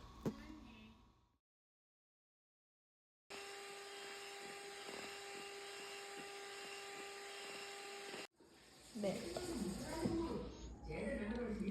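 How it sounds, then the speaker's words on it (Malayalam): An electric hand beater whips an ice cream mixture at low speed, a steady close motor whine running for several seconds between short gaps, with talking after it stops. "ലോ സ്പീഡിലിട്ട് നമുക്ക് ബീറ്റ് ചെയ്തെടുക്കാം."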